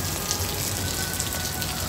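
Water streams from a tap while someone washes their feet, producing a continuous, even splashing hiss with faint droplet patter and no voices.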